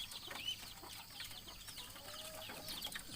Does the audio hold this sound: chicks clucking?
yes